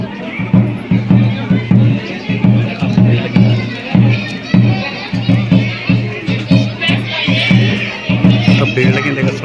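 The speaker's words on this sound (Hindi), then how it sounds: "काफी भीड़ लगी देखा सरदा मन सुंदर" Dense crowd babble fills the grounds of Jwalpa Devi temple in Pauri Garhwal on Navami, a steady hubbub of many overlapping voices with rhythmic low pulses running throughout, fairly close and loud.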